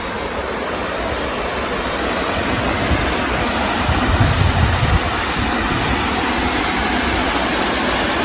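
A mountain stream rushes steadily through hill country near Nalagana falls, a loud, unbroken wash of flowing water heard close by with no voices.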